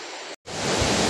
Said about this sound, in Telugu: రోడ్ పక్కనే, దీని పక్కనే ఉంది వాటర్ ఫాల్. చూడండి వాటర్ ఫాల్ అదిగో.